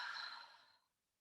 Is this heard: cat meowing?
no